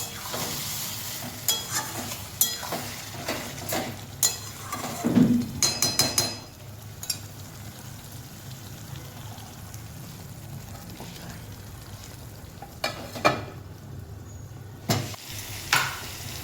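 Masala chicken cooking in a pan, with a low continuous sizzle and scattered scraping and clinking utensil strokes, louder in a first burst and sparser later, with no voices.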